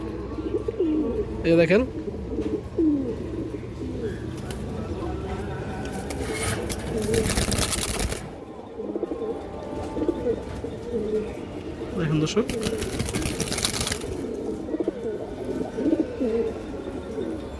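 Old-breed pigeons on a farm coo steadily in low, throaty bursts, close by and overlapping, while someone talks over them and sharper chirps and bird calls break through now and then.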